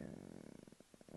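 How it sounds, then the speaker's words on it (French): A soft, rhythmic purring snore from a cat, close and quiet, with regular pulses. "si vous entendez ronfler, c'est mon chat."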